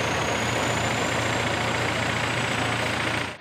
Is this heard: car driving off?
yes